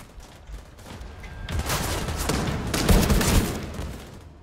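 Rifle gunfire in The Division 2, a shooter set among city streets: a dense, loud fusillade of overlapping shots that builds and rolls for a few seconds with booming low end, then fades off, with no talk.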